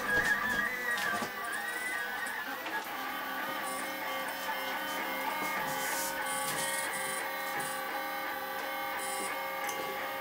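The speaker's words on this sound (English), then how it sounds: "Does appear to be indeed printing upside down." Lulzbot AO-101 3D printer running upside down, its stepper motors whirring and chirping in shifting tones with light clicks, a steady, moderately quiet mechanical hum with no talking.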